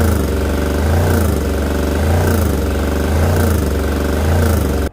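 A Fischer Panda marine generator engine runs steadily and loud up close, its drone rising and falling in a slow surging rhythm roughly every second as the throttle actuator hunts back and forth, with no voices.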